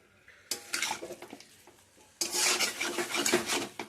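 Meat with spices is sautéed in a pan on high heat, with a spatula rasping and scraping the pan in quick, rhythmic strokes that come in two loud bursts separated by a short lull.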